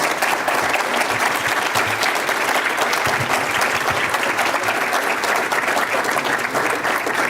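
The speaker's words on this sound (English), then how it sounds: "These 5 deserve some great applause, if you would." Sustained applause from a large audience, steady and loud throughout, many hands clapping at once with no voices standing out.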